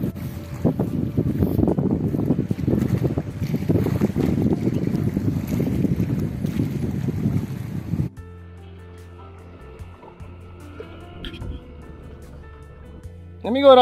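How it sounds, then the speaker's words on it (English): Low, choppy motor rumble of a small fishing boat passing near Fort Amsterdam, Suriname, mixed with wind buffeting, then fading to a quieter hum with faint sounds. "That's a fishing boat, small fishing boat."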